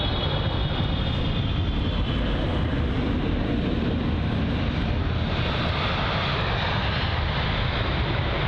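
A Korean Air Boeing 777 in from Seoul at London Heathrow gives a loud, steady jet engine roar with broadband rumble and a high whine, holding constant throughout with no talk over it.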